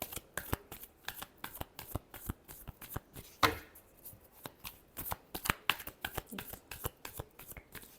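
Tarot cards are shuffled close up in a quick, continuous riffle of soft papery slaps and flutters. One sharper snap stands out midway through, with no speech.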